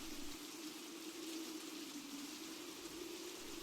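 Heavy rain falls in an audio drama scene as a dense, even hiss of drops striking a surface. It is steady and fairly faint, with no pauses and no voices.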